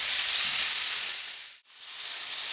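Lamb steak sears in a hot pan, making a loud, steady, close sizzling hiss that drops away briefly to near silence before returning at full strength.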